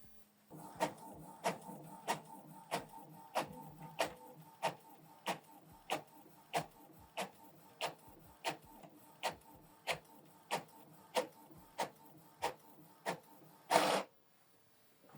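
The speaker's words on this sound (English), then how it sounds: "So it's now scanning the second page." An Epson EcoTank ET-3950 printer scans and copies a page with a regular series of sharp mechanical clicks about every half second, ending in a brief louder whirr, close and fairly quiet.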